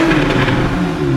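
A loud, throaty sports exhaust on a 2014 Porsche 911 Carrera 4S 3.8 revving steadily up close, a rich deep roar holding for a moment.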